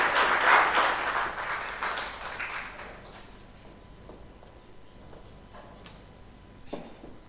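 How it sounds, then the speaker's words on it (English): Applause from the audience at a university research week Three Minute Thesis competition, loudest at the start and thinning out over several seconds into scattered claps and room noise. "Please, let's give her a round of applause."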